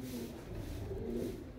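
Pigeons, including a Salari female and a blue pigeon, cooing softly at a breeder's loft; a low, continuous rolling coo, faint and steady, with no speech.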